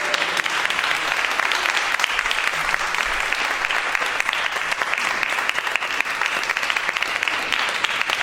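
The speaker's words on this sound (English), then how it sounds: "That's the applause." Studio audience applause during an improv comedy show, dense and loud sustained clapping that holds steady for the whole stretch with no voices over it.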